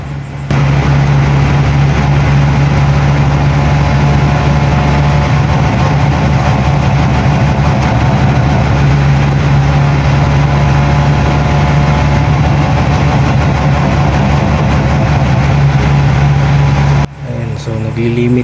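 A Rusi Caruza 200i motorcycle engine runs hard against its 9,000 rpm limiter, a loud, sustained, steady drone with a strong low hum that cuts off abruptly near the end.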